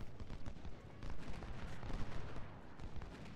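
Musket volleys and artillery in the video game Ultimate General: Civil War form a dense, continuous roar of overlapping gunfire with heavy low rumble, filling the whole stretch without pause.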